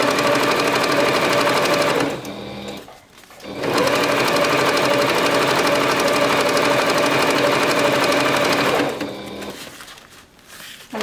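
Sewing machine stitching a fabric scrunchie, with loud, steady mechanical whirring in two long runs broken by a brief stop, close by and with no talking.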